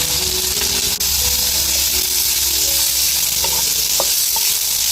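Onion frying in a pan for a red amaranth vegetable dish makes a loud, close, steady sizzle and hiss with occasional stirring clicks, no talk.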